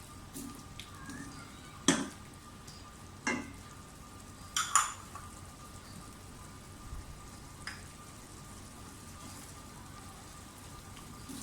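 Carrots and chicken cook in a pan with a faint steady sizzle, broken by a few sharp clinks and scrapes from stirring.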